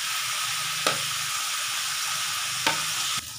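Indian borage leaves sauté in a pan with a steady, even sizzle and stirring, broken twice by a sharp knock of the spatula against the pan; no talking.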